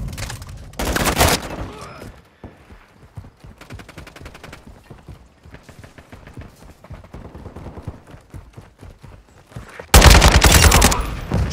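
Bursts of automatic gunfire in Modern Warfare 2, loud volleys opening and closing with rapid rattling fire in between, punctuated by heavier booms.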